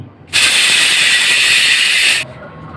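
A pressure cooker holding fish boiled with potato, kohlrabi, garlic, ginger, chilli and bamboo shoot whistles, releasing one loud, close, steady hiss of steam that lasts about two seconds before cutting off abruptly.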